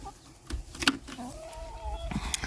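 Backyard chickens give a few soft clucks and short calls in the summer heat, close but quiet, with scattered faint knocks and no talking.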